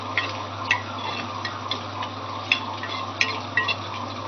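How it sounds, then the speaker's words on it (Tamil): Tomato, onion and curry leaves sautéing in a pan, a low steady sizzle broken by sharp little clicks and taps of a spatula against the pan at uneven intervals. "ஒரு தக்காளி, ஒரு வெங்காயம் போட்டு வதக்கி கருவேப்பிலை,"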